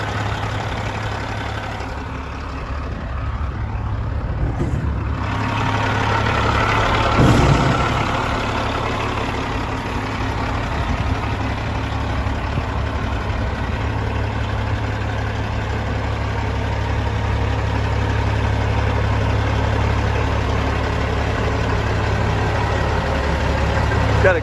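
A 2013 Peterbilt 389 glider kit truck with a Cat 6NZ diesel engine idles steadily up close, a deep, even rumble with a low throb that holds for the whole stretch, with occasional faint background sounds.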